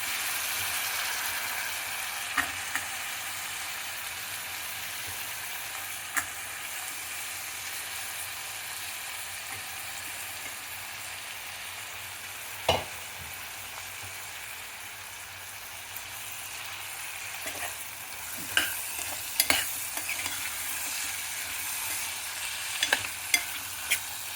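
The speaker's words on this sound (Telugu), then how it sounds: "ఆలు అండి. ఒక 2 నిమిషాలు వేగనివ్వాలి." Potatoes fry in a pan for an aloo and soya curry, a steady sizzling hiss broken by occasional scraping stir strokes and light knocks, close and continuous with no talk.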